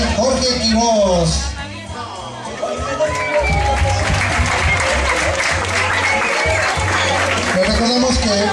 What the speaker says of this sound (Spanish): Vamos a dar un fuerte aplauso para nuestro buen amigo Jorge Quiroz.